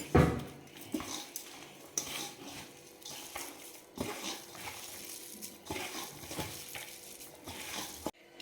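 Gram flour dough for bottle gourd balls mixed by hand in a bowl: soft, continuous squelching and stirring with occasional knocks against the vessel, close and fairly quiet, with no voices.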